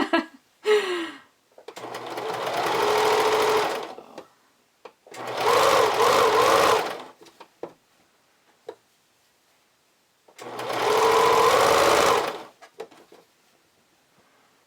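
A sewing machine stitches camisole fabric in three long runs of about two seconds each. Between the bursts come brief pauses with small clicks and handling noises.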